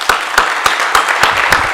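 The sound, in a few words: audience applause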